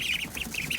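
Small ducklings give a quick run of high, thin cheeps, several short peeps close together over a faint background.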